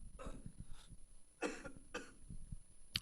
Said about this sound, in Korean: 지금 목이 좀 안 좋아가지고 제가 기침을 하는 거라서